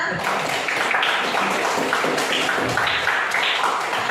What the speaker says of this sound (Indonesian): Berikan tepuk tangan semuanya.